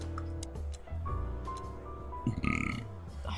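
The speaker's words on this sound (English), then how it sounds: "I can't stop burping today." A person burping repeatedly, low croaky belches stretched over a few seconds with faint clicking and game sounds from Chicken Police behind them.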